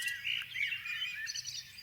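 A crow gives several harsh, raspy squawks in quick succession, fairly faint and somewhat distant, with no other sounds over them.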